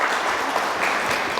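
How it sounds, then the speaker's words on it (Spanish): A church congregation applauds, dense steady clapping from a crowd filling the room throughout, with no speech over it. "Entonces den un aplauso al Señor, los que están sirviendo, que nos ha honrado para hacerlo."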